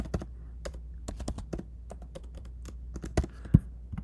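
Computer keyboard typing while working in Figma: quick, irregular clicky keystrokes in bursts, close and crisp, with one sharper key hit near the end and no speech.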